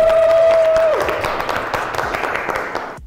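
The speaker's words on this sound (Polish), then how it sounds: "Brawa dla Sary!" A crowd breaks into applause after a brief electronic tone, scattered claps and cheers filling the room before fading out at the end.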